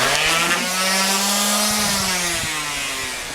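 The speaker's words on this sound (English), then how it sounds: "Got some 60 grit paper on a Ryobi orbital sander." A Ryobi orbital sander fitted with coarse 60-grit paper works on a Suzuki track-day motorcycle fairing, giving a steady, close motor whine with continuous gritty rasping and no voices.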